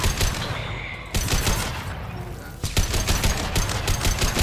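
Impact shot gunfire from the video game Mass Effect 2 booms out as several loud, heavy blasts in quick succession over a dense battle din, with no clear talk.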